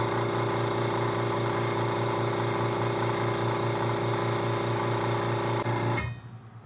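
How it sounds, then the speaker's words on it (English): Air compressor running steadily for airbrushing a 3D-printed Death Trooper model, a constant mechanical hum with a low drone that cuts off abruptly near the end. "It's just a compressor on right there."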